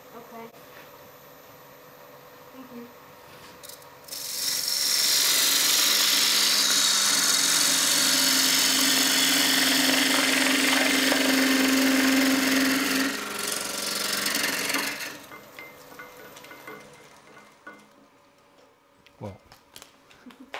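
A robust wood lathe spins up into a loud, steady whirring roar for about ten seconds as a piece is turned and comes off, then winds down; voices talk before and after.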